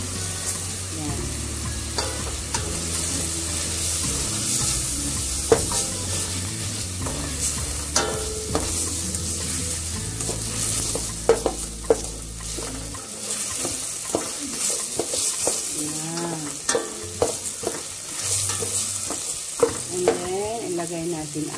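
Chicken sautéing with ginger in a pan for arroz caldo, a continuous loud sizzle and frying crackle with stirring scrapes and a low background hum.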